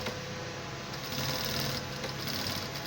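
A sewing machine stitches a pant seat in a steady, continuous close-up whir for a few seconds, running alone with a slight rise in pace midway.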